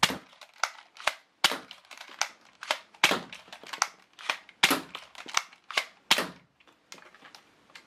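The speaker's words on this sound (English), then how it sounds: "prime the blaster, then you fire" Toy blaster repeatedly primed and fired, a run of sharp snapping clicks and pops at a brisk uneven rhythm, close and fairly loud with no talking.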